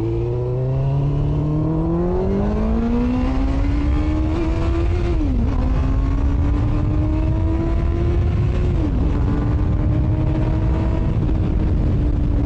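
A motorcycle engine with freshly cleaned injectors runs steadily and loud, revving up smoothly through a rising drone with two brief dips where the throttle eases before climbing again, no voices present.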